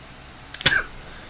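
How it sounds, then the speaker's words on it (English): A man gives a single short, rough cough, close and fairly loud, after a moment of quiet room tone, then the sound fades back to near silence. "you're gonna have to deal with my coughing"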